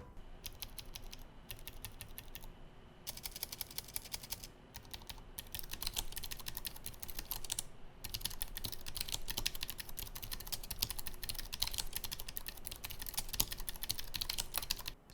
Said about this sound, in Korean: 타건 소리도 한번 들어보겠습니다.